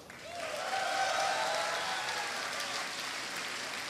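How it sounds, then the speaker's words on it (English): Audience at a Red Bull Battlegrounds StarCraft esports event in Austin applauding a player, a broad wash of crowd clapping that builds quickly and then holds steady. "Give a cheer for Squirtle."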